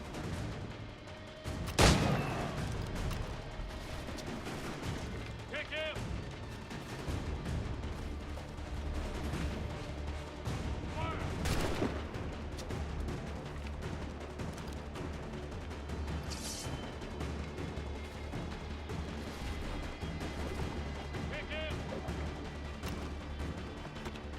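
Video game gunfire from shooters on a rooftop in Assassin's Creed III: a few sharp, loud shots and bursts stand out over a continuous, busy background of game noise and ambience, with no speech.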